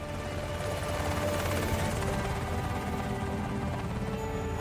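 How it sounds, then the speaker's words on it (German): Helicopters from Germany, France and the USA fly an avalanche evacuation airlift in Austria in 1999, producing a continuous dense rotor and engine roar that stays steady and loud throughout, with no voices. "Hubschrauber aus Deutschland, Frankreich und den USA unterstützen die Luftbrücke"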